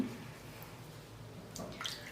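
Water is splashed onto the face to rinse off a face pack, producing faint, close dribbling and a few soft splashes that grow slightly busier toward the end.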